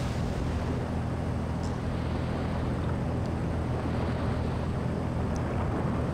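Steady broadband wind roaring over open water in a ship simulator game, turned down to about 18 knots, a continuous dense rush with low rumble beneath and faint high whistles, no talk.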